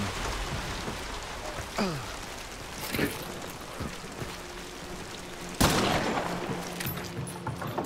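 Rain patters in a video game under bursts of gunfire and sharp impacts, with a voice speaking intermittently over the noisy backdrop.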